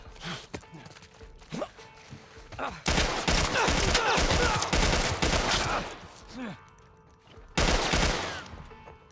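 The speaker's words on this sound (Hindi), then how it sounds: "भाई कैसे चल रही है ये गन एकदम तेजी तेजी में कती" Rapid automatic gunfire from The Last of Us Part I, loud dense bursts in several spells separated by quieter gaps with scattered thuds and movement, one final short burst near the end.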